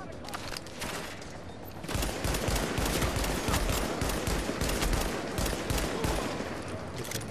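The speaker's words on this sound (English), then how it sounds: "Yeah, I have a gun turret." A gun turret in The Division's Dark Zone fires without letup, loud and dense with rapid shots running for several seconds after a quieter opening.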